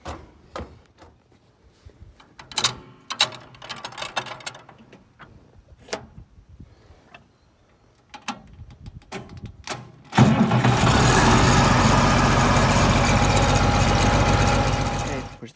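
A new green tractor's engine cranks and fires up about two-thirds of the way through, jumping from quiet clicks and handling noises to a loud, steady roar that holds to the end. People talk during the quiet start.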